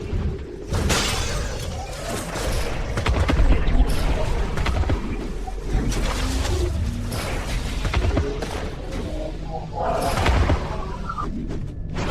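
Seeker tank cannon fire in the video game Advent Rising, shattering, crashing blasts layered into a dense, loud din for the whole stretch, with heavier bursts near the start and again toward the end.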